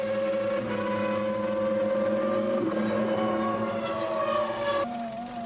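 A 1998 McLaren Formula One car races on after being thrown off the circuit in front of the pit lane. Its sustained, loud, high-pitched engine scream stays steady, with a sharp gear change close to the end.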